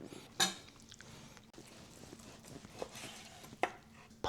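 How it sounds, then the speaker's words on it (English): Knife slicing through grilled tri tip on a cutting board, a few faint scattered cuts and clinks, quiet and close with no talk. "Let's get a couple of slices in here."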